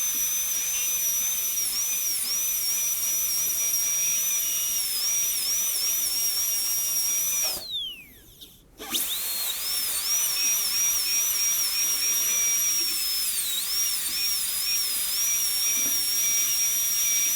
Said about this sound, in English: I'm going to extend this burr just a little bit, if it'll stay in the chuck, to do the functional cusp bevel.